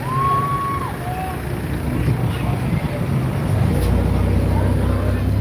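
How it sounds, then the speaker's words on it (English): Loud, continuous road traffic rumble heard from within a vehicle crawling through congestion in Wisconsin Dells, with engine drone and a brief high whine early on, no talking. "Bear with me a few minutes to get through this traffic."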